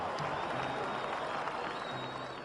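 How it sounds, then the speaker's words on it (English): Crowd applause and excited cheering following a political address, a dense steady wash of clapping that holds at an even level throughout without a break. "Garvey's address was met with great applause and much excitement."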